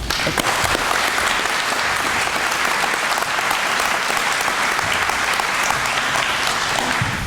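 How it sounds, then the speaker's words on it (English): Sustained, loud applause from an award ceremony audience honoring law enforcement officers, a dense, even wash of clapping lasting the whole stretch without talk. "Round of applause, please."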